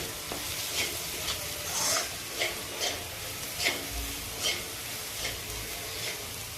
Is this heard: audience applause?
no